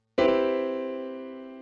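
A single piano chord struck once, ringing out clearly and fading slowly in a quiet room.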